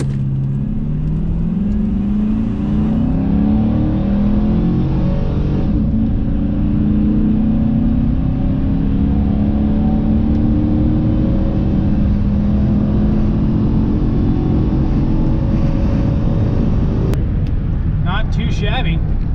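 A Chevrolet Trailblazer SS with an aftermarket intake and its electronic exhaust cut-out closed pulls away under throttle, a steady deep engine rumble building and holding close throughout, with road and wind noise layered over it.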